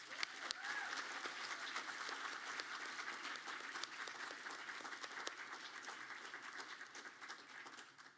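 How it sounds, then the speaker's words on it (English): Sustained audience applause at an evening charity gala for a justice center, dense steady clapping from a large crowd filling the room with no talk over it. "Can we have one round of applause, please, for Bright Horizon, the HEAL Collaborative, and the Texas Council on Family Violence."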